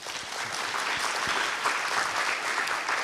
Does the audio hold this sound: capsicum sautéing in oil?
no